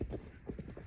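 Horse galloping during pole work, a quick rhythmic clip-clop of hooves over a short stretch, close and fairly clear with a faint voice beneath.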